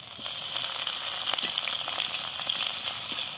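Chopped onion fries in hot oil with a dense, continuous sizzle and steady crackle, close and fairly loud throughout.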